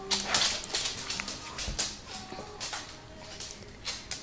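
A dog whimpers and whines softly in short, high-pitched bursts, with faint patters and household movement close by.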